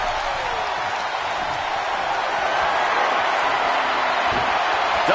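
A wrestling crowd in the WWE 2K video game roars in a dense, steady wall of cheering and applause that stays loud and unbroken from start to finish.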